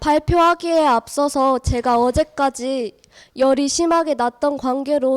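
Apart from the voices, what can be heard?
No everyday noise stands out behind the speech.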